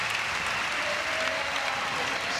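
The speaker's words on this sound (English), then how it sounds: "this Oslo crowd loving what they're seeing from Kelvin Hoffler, our current leader." A large Oslo crowd applauds and cheers steadily at an X Games street skateboarding contest, a dense loud wash of clapping throughout.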